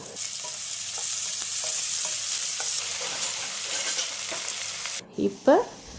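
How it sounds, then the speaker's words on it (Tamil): Chopped onions and tomatoes sauté in a pan for a chicken semi gravy, giving a steady, close, hissing sizzle with light stirring scrapes throughout, broken near the end by a few brief louder knocks. "அந்த வெங்காயத்தை எடுத்து அதில் போட்டு நல்லா வதக்குங்க அதுக்கப்புறம் தக்காளி எடுத்து அதில் போட்டு நல்லா வதக்கிக்கோங்க"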